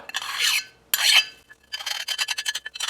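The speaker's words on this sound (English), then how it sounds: "you can take a big file and just lightly, I'm not putting hardly any pressure on this, just lightly going across it" A big file scrapes lightly across a KTM 50 kickstarter part in two long rasping strokes, then a quicker series of short strokes, close and crisp with no talk.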